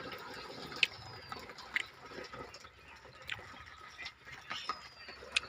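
Water drips into a pit in scattered, irregular drops, small bright plinks over a faint watery background.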